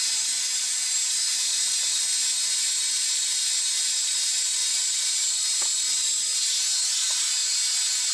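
A steady, high-pitched motorized whine from a slow-spinning Brush Hero wheel cleaning brush runs continuously, with a faint knock or two underneath and no talking.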